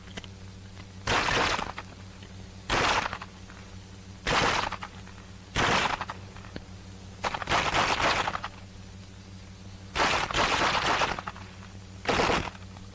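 Rifle fired from the hip in close-combat firing practice during a 1943 wartime training exercise: about eight loud sharp shots with ringing decay, spaced roughly a second or two apart, no talking.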